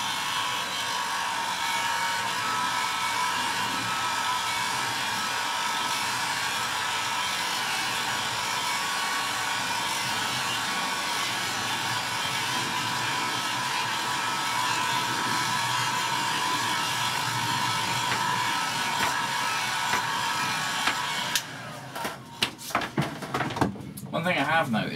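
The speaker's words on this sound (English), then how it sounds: "We'll just apply a bit of heat and make sure it's all dry." A heat tool blows steadily to dry water-based airbrush paint, a continuous close whooshing hum for about twenty seconds that then cuts off, followed by clattering handling sounds.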